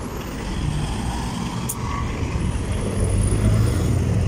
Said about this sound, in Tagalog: Maraming sasakyan ang naglalabasan.